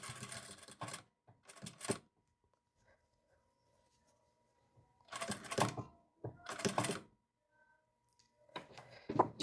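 A sewing machine topstitches a built-in pocket on a dress, running in several short, loud bursts of rapid mechanical stitching separated by silent pauses while the fabric is turned.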